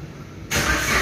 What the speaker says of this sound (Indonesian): Untuk mesinnya kita starter.